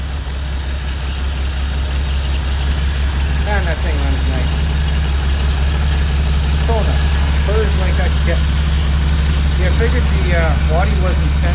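A car engine idles steadily with a deep low hum and constant vibration, close and loud, while someone talks intermittently over it.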